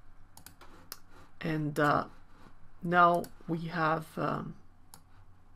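Scattered sharp clicks of a computer mouse and keyboard while meshing software is in use, faint and brief, mostly under a man's ongoing speech.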